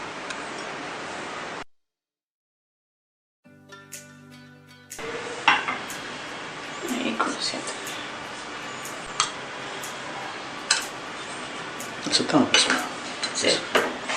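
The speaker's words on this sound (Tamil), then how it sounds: "இதில் இந்த மாவை போட்டு வறுக்கணும்" Wheat flour roasting in ghee in a pan, the vessel already holding coconut, for wheat laddu, with scraping and clinking of a spoon against the metal in irregular bursts after a brief silence, close by and fairly clear.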